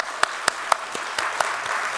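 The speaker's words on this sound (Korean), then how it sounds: "우리 환영과 축복의 박수 한번 하실까요?" A church congregation at Sunday worship claps rhythmically to welcome a newcomer, a quiet run of evenly spaced group claps over a soft background.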